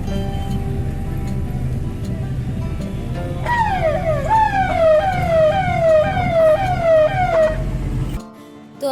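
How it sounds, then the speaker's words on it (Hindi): A police siren wails in repeated rising-falling sweeps over steady market street and traffic noise, loud and fairly close, then cuts off abruptly near the end. "तो अभी आप लोगों को मार्केट में पुलिस के सायरन की आवाज़ सुनाई दी होगी ना"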